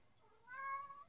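A pet cat gives a single short, clear meow, rising and then falling, heard close by in an indoor room with no talking during the call.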